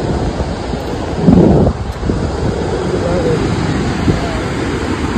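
Water at Kuntala waterfall in Adilabad gives off a steady broadband roar throughout, mixed with gusty wind buffeting the microphone and a short louder thump near the start.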